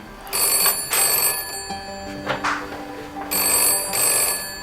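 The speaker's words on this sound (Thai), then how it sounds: "เดี๋ยวผมขอไปรับโทรศัพท์กันนะ" A telephone rings in repeated electronic bursts, about four separate trills with short gaps between them, loud and close.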